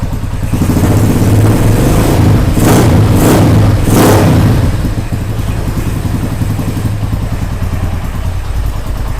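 A Honda CB125 SE motorcycle engine with a 6-speed gearbox runs loudly up close, revving up several times in quick bursts before settling back to a steady idle.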